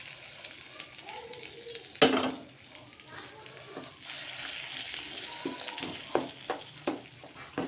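Hot oil bursts into a loud sizzle as chilies are dropped in for tempering, then crackles and spits in sharp pops, with a brief faint voice.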